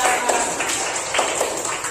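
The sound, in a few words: children clapping for the robot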